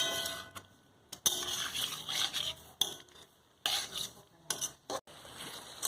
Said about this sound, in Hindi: टमाटर सॉस और चिली सॉस। उसको हम अच्छे से मिक्स करेंगे।